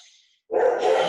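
A dog barks close by, a sudden loud burst of rough yapping that keeps going after a moment of near silence, with no talk over it.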